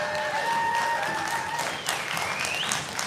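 An audience at a music venues conference applauds and cheers, dense clapping filling the room with a few whistles and shouts mixed in, loud and sustained.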